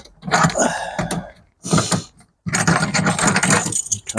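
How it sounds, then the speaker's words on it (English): A camlock fitting is coupled onto the bleach tank of a stainless steel softwash van pack, giving loud, close metallic clanks, scrapes and ratcheting rattles in a few bursts with a brief pause between them. "connect straight onto the bleach tank with the Camlock fitting there"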